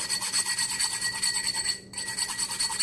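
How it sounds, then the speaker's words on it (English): Sharp edges of a cut glass bottle are sanded by hand in quick, rhythmic back-and-forth rasping strokes, close and steady, with one short pause near the end. "just continue to sand down the real sharp edges"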